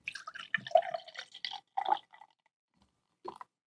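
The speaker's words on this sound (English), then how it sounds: "I believe I just poured myself a 6-ounce pour" Beer from Hyperion Brewing glugs out of a 32-ounce crowler into a glass, a close, bubbly pour with short splashing bursts that taper off, then a brief final trickle.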